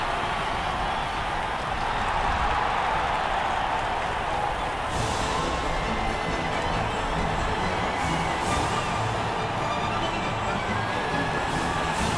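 Spanish crowd noise in the F1 2015 racing video game at the Spanish Grand Prix, a dense roaring cheer under a continuous engine-like drone, with brief sharp bursts recurring.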